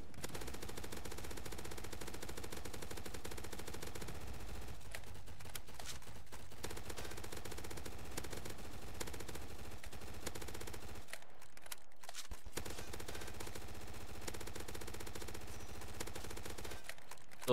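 Sustained automatic fire from a PDW-R in the Roblox zombie shooter Zombie Uprising, rapid continuous bursts that run almost unbroken, with a few short pauses, loud and dense throughout.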